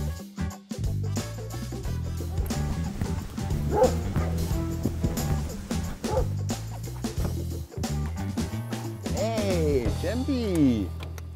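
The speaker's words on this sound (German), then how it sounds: "Champ, ein belgischer Schäferhund, ist gerade 5 Monate alt und beginnt seine Ausbildung bei der Polizei" A five-month-old Belgian Shepherd puppy in police training barks and yips repeatedly at close range, with whimpers and a rising whine near the end, while people talk over it.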